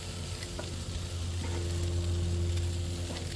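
Chicken kabobs with vegetables sizzle steadily on the heat, a dense, continuous frying crackle with a low hum underneath and no voices, holding even throughout.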